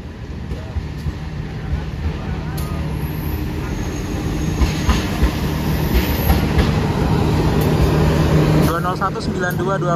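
The Sawunggalih passenger train rumbles past steadily and loudly nearby, with continuous rolling wheel noise and faint rhythmic clatter throughout.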